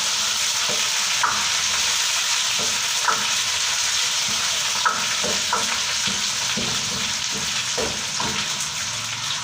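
Potatoes frying in a pan with browned onions, a steady close sizzle with intermittent stirring scrapes and clinks throughout, no voices.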